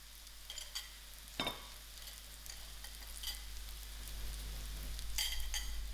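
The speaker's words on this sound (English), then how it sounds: "I will allow this to fry for about 2 to 3 minutes" Ready-made patha frying in a pan for sour dhal, a soft steady sizzle with faint crackles and a couple of brief stirring scrapes, fairly quiet and close, with no one speaking.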